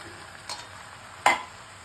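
Bitter gourd, eggplant and lentil dumplings drop into a hot pan of mustard-paste curry, two short sizzling splashes, the second louder, over a faint background hiss.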